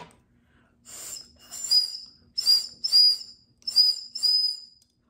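A voice mimics birds with several short whistled chirps in three quick pairs, close and fairly loud, with brief pauses between.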